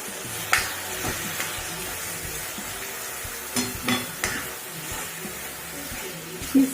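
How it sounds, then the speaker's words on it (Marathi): Soaked chana dal and onion frying in a pan for Nagpur-style Savji dal kanda, with a soft steady sizzle and several sharp scraping stir strokes spread through the clip, no talking. "मिक्स करून घ्यायचं डाळ आणि कांदा। दोन मिनिटं परतून घेऊया।"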